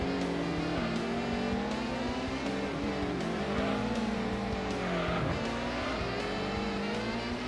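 A game car in Gran Turismo accelerates slowly, its engine whine rising gradually and wavering over several seconds. A faint tire squeal comes through, and the engine drone is steady and continuous.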